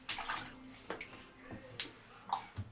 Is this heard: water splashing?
yes